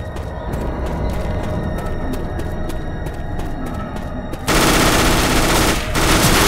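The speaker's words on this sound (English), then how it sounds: "We got guns!" Dense automatic gunfire from guns in Left 4 Dead 2, rapid shots crackling over a steady din of battle, jumping louder and heavier in the last two seconds as more weapons join in.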